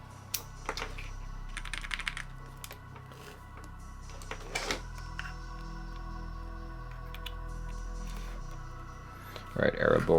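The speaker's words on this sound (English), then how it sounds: "let's do an actual typing sounds test." Continuous close typing on a Vega 65 mechanical keyboard fitted with Gateron Black Ink switches, an even stream of soft, clacky keystrokes heard alone at a modest level.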